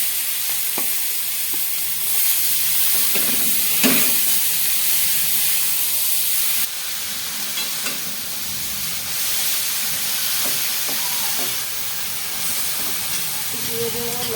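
Green chili and grated carrot sizzle steadily in hot oil with black cumin, a continuous loud frying hiss broken by a few scraping stirs of the spatula.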